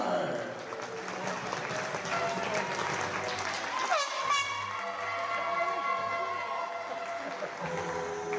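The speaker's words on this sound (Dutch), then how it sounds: "Dames en heren, heel veel applaus voor Serenitas Dona." Audience applause at a basketball cup final between Dozy BV Den Helder and Celeritas-Donar, a dense, steady roar of clapping and crowd noise filling the arena, with tonal sounds and voices mixed in under it.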